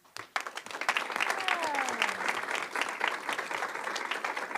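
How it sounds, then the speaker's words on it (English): An audience at a school board meeting applauds families of a swim team, a sustained round of clapping that starts abruptly and holds steady, with faint voices mixed in. "would you please stand so we can applaud you as well?"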